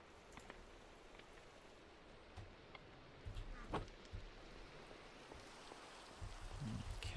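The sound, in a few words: rain in the video game Minecraft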